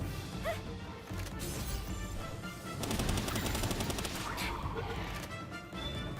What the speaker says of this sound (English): It's a machine gun and it shoots missiles.